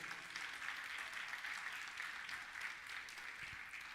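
A church congregation applauds during a sermon, a faint, distant, steady wash of many hands clapping with no breaks.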